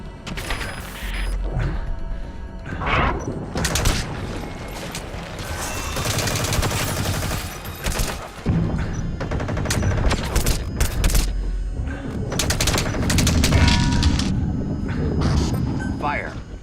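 Gunfire in Metal Gear Solid V: The Phantom Pain, bursts of shots and crashes mixed with explosions and mechanical noise, loud and sustained under game voices and talk throughout.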